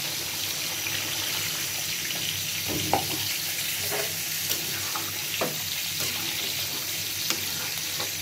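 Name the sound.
broth added to frying fish dopiaza, sizzling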